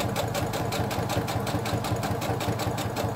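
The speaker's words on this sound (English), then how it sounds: "start sewing down that chalk line" A sewing machine stitching fabric along a chalk line while making a dog bandana, a close, steady rapid mechanical chatter of the needle with an even pulsing rhythm and no voices.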